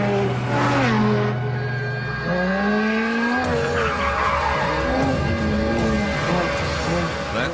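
A Ferrari F430 Scuderia driven flat out on the Ferrari test track, its high-revving engine wailing and shifting pitch while the tyres squeal and skid through the corners, close and loud the whole time.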